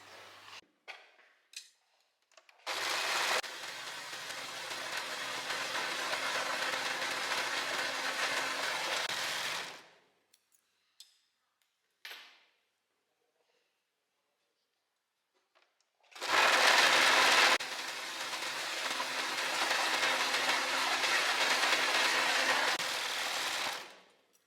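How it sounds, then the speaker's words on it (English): Overlocker sewing machine stitching the inside edge of bedsheet lining, two steady, fast-running whirring bursts, close and loud, separated by a quiet pause with small handling clicks. "now we're just going to overlock the inside of the lining of both of the"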